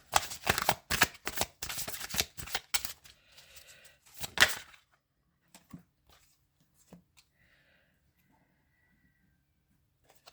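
Tarot cards being shuffled: a quick, loud run of riffling flutters and taps up close for several seconds, then only a few faint clicks trailing off into near silence.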